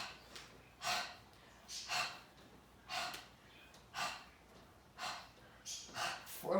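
Heavy, loud breathing during a Pilates exercise, with about seven strong breaths in a steady rhythm close to the mic and no talking.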